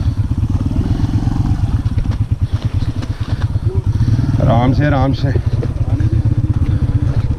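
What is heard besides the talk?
motorcycle struggling to climb on icy snow, tire skidding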